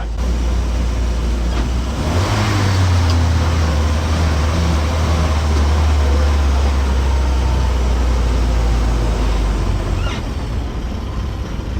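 A 1959 Land Rover Series II 109-inch pickup drives along with a loud, close engine drone and road rumble, the pitch dropping and settling as a gear change goes through early on.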